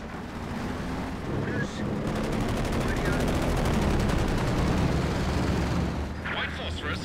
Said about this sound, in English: An artillery barrage has been laid on.